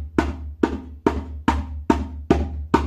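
Seven sharp, evenly spaced djembe slaps crack out in a steady rhythm, each a bright snap over a low ringing drum body, close and alone.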